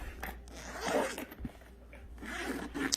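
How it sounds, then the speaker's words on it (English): The double zipper on a drone's carrying case is pulled open in a few quick rasping strokes, close up, with handling noise between the pulls. "It's got a double zipper."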